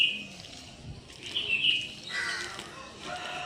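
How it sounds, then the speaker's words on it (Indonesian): Birds chirp in a residential neighbourhood in Indonesia during a morning walk, with a few bright, high calls standing out over soft, steady outdoor ambience. "Ini ada burung-burung."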